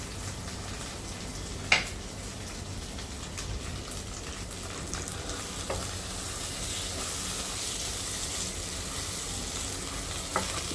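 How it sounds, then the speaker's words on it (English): Mashed boiled dal is stirred into a sizzling garlic-onion tempering with butter, a constant crackling fry like light rain, with a few sharp utensil knocks against the pan; no talking. "Now mix it together properly."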